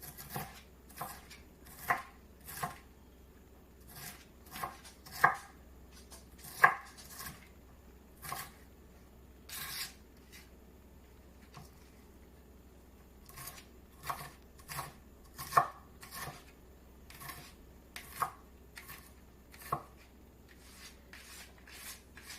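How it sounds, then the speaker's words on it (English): A knife rough-chops a bell pepper on a cutting board, sharp chopping knocks coming in irregular bursts and single strokes, close and clear, with no talking. "what I like to do is give it a rough chop like this for any of the big pieces"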